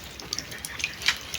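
Pond fish being poured gently into a container of salt treatment water, producing a brief close run of soft splashes and trickling drips, fairly quiet, with no voices.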